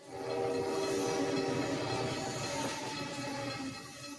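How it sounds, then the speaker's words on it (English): An approaching train rumbles and clatters steadily in a film trailer soundtrack, loud and continuous with tonal horn-like hums, swelling in as it nears. "cut a trailer for the 2006 film Little Children, cut to the sounds of a coming train."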